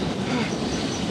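In a classic BBC radio drama, a train approaches with a steady rumbling clatter of wheels on rails, moderately loud and continuous, with no voices over it.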